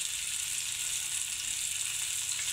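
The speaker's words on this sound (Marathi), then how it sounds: "तर त्याला असं तळून लावते." Food fries in a pan with an even, steady sizzle and hiss, heard up close with no talking.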